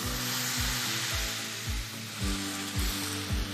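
Mustard cooking in a hot pan sizzles loudly as water is added, with rhythmic scraping of stirring strokes repeating about every half second and no talking.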